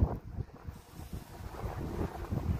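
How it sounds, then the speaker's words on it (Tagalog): Gusty wind buffets the microphone with a steady low rumble, rising and falling in waves, with no voices present. "pero malakas pa rin yung hangin"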